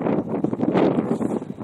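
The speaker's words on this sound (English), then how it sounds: "It's windy out here." Wind buffets the microphone in rumbling gusts, a loud low roar outdoors with no talking.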